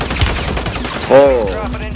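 Shotgun blasts from the video game Warzone, a couple of sharp, loud bursts against busy in-game noise.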